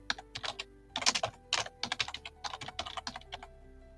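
Quick bursts of typing on a computer keyboard, key clicks close and crisp in uneven clusters with short pauses between them, no voices.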